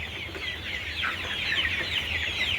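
Forty-three-day-old chickens on a poultry farm cluck and chatter in a dense, continuous flock close by, with no talk over them.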